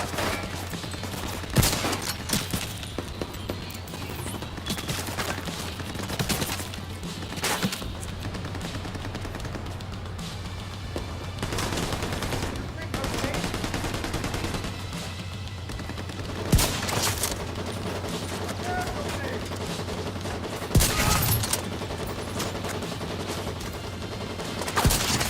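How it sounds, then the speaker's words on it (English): Rapid bursts of gunfire from a fast-firing gun in a video game, loud and sustained, with intermittent sharper shots and a constant rumbling background. "It's such a much faster firing gun."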